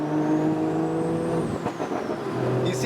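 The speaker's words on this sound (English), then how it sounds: "put some throttle on it, Yeah. you'll slowly hear it spooling up" A 2023 Toyota Supra 3.0 Premium manual with an aftermarket CTS intake revs steadily, its engine tone rising and falling with faint turbo whine, loud and continuous throughout.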